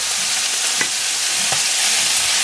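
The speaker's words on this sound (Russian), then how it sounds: "А теперь добавляю все овощи. На восьмерочке жарю." Meat, garlic and vegetables fry in a pan over high heat, a steady loud sizzle with a couple of brief stirring clicks and no voices.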